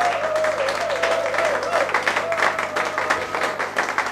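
Audience applause in a live TV studio music broadcast, with steady clapping throughout and a faint sustained tone beneath it.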